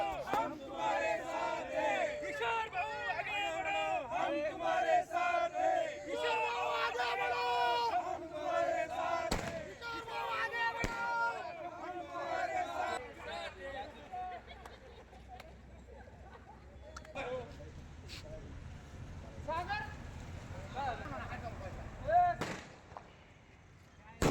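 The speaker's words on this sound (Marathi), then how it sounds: "किशोर दराडे समर्थक कशा प्रकारे आपला जल्लोष साजरा करत आहेत" Supporters of Kishor Darade celebrate in Yeola before the result is declared: a loud crowd chants and shouts continuously, with sharp bangs of firecrackers, and a reporter's voice is heard among them.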